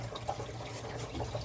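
Gray water running out of the holding tank of a 1978 Glendale RV, a steady close splashing pour like a filling sink, fairly quiet and continuous with no talk.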